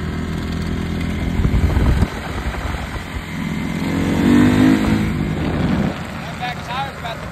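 A Honda CRF450 dirt bike engine runs and revs at a Tennessee hill climb, a steady low motor drone rising in a swell near the middle, with people talking over it throughout.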